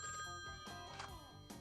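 A telephone bell rings in a 1990s public service announcement, a bright trilling ring sounding steadily, fairly faint and heard alone without speech.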